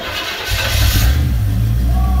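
A 1968 Camaro engine cranks and fires for the first time in 2023, catching into a loud, rough, rumbling idle close by.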